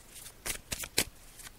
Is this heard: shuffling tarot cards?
yes